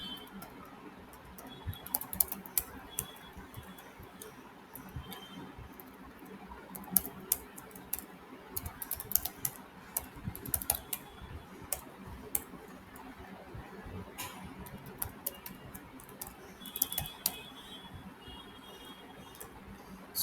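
Code being typed on a computer keyboard while writing a Scala function: quiet, irregular runs of soft key clicks with occasional sharper taps, close by in a calm room.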